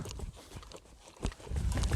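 Soft hoofbeats from a horse, a mare worked on a right-hand circle during a schooling session, thud irregularly at a moderate distance, faint and muffled with background rustle and no clear talk.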